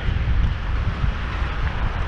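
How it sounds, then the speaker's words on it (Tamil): Steady, rough low roar of strong wind near Nagercoil in southern India buffeting the microphone, loud and continuous throughout with no voices. "காற்று இங்கே பயங்கரமாக அடிக்கும்."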